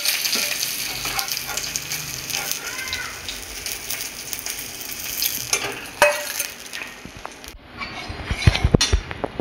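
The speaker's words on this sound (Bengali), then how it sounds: "মাছটা এমনি হালকা ভেজে নিতে হবে, খুব ডিপ ভাজা যাবে না।" Fish frying lightly in a pan for masor tenga, a steady close sizzle and crackle with occasional louder spits and a few utensil knocks toward the end, no talk.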